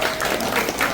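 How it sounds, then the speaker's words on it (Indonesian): Guests at a Christmas dinner in a hotel ballroom give a short burst of steady applause, close and fairly loud. "Yuk, kasih tepuk tangan buat Pak Bambang, Bu Nani."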